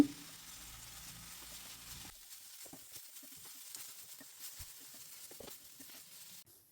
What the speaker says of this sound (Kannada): ಅದಕ್ಕೆ ನಾನು ಹಾಗಲಕಾಯಿ ಹಾಕಿಬಿಟ್ಟು ನೀಟಾಗಿ ಫ್ರೈ ಮಾಡ್ಕೊಳ್ತೀನಿ